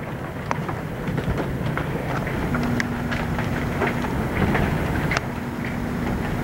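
Large hailstones hammer down in a storm over Lincoln, Nebraska, a loud continuous clatter broken by scattered sharper impacts throughout, with a faint steady hum running partway through.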